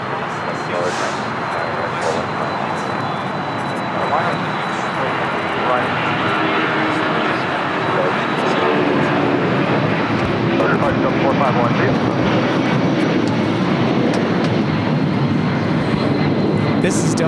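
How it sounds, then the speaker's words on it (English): A Delta Airlines Boeing 757-300 takes off at LAX, its engines making a loud, continuous roar that builds and thickens over about seventeen seconds. "This is Delta Airlines 451 taking off to Atlanta on a 757-300."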